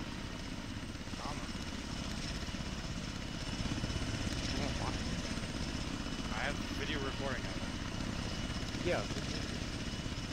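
A helicopter spooling up in the ArmA 3 video game, a faint, steady rotor and turbine whine behind radio chatter and voices that talk over it throughout.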